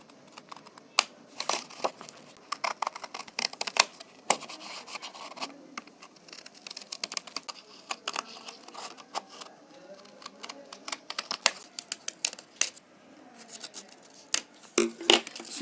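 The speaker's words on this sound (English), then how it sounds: "So now you need to cut both of them." Scissors snip through paper to cut out circles for a Christmas tree craft, close up, giving irregular bursts of crisp cuts with paper rustling between them.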